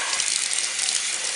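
Tap water gushing steadily from a faucet while a glove is rinsed off during a plumbing job, a loud, continuous close-up splash with no talk.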